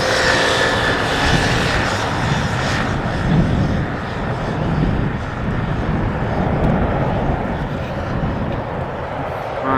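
A passenger jet arriving on runway 18R at Amsterdam Schiphol in crosswind conditions, a loud broad engine roar holding steady as it passes near, with some wind buffeting on the microphone.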